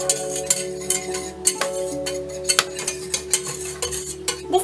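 Utensil stirring homemade kwek kwek sauce made with pepper, salt and 7-Up, a run of quick clinks and scrapes against the pot in an irregular rhythm, close and moderately loud with no talking.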